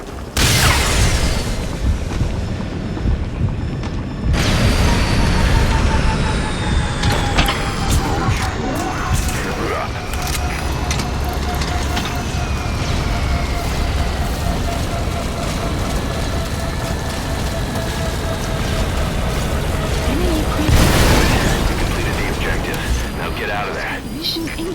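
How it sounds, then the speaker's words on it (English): An enemy gunship attacks in MGSV: The Phantom Pain, with a loud, sustained mechanical rotor drone and a whining engine tone running throughout and heavy booms near the start and end. "That's an enemy gunship."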